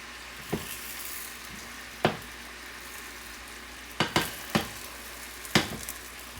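Egg and chicken frying with rice in a pan, a steady close sizzle broken by several sharp spatula scrapes and taps as the food is mixed, with no talking.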